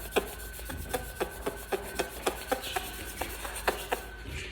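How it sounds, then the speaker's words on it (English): Palms rub together in quick, rhythmic strokes, each producing a sharp, squishy friction rasp, repeated about a dozen times, close and quiet. "I'm one of the people that can like make that friction sound with their hands"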